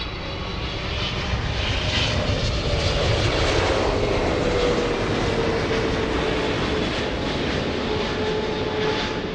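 A Singapore Airlines airliner arriving from Narita at LAX makes a loud, sustained engine roar with a slowly shifting whine, steady and close throughout, with no voices.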